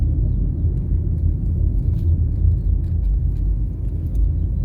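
Steady, loud low rumble of a car driving through the residential streets of Trafalgar Park in Kingston, Jamaica, with engine and road noise holding constant and no voices.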